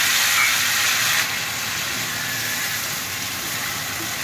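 Ground spice paste and sugar hit hot oil with frying potatoes for a fig (dumur) dalna, giving a steady, close, hissing sizzle that is loudest in the first second, then settles a little and continues evenly.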